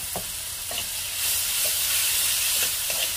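Ginger, garlic and green chili paste fries in a pan with a steady bright sizzle, punctuated by several soft stirring scrapes at irregular intervals; close and continuous, no voices.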